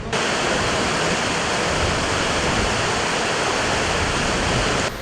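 Loud, steady rushing water roars without a break from the flooding Karaçomak Creek in Kastamonu, overflowing after heavy rain, swollen and in full flow nearby.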